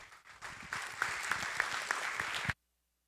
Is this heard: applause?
yes